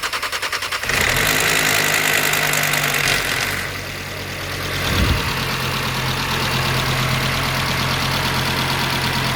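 A car engine under rebuild, a DAZA, runs at a loud steady idle with a fast rhythmic ticking from the hydraulic lifters, briefly dipping and surging midway, close to the microphone with no talk.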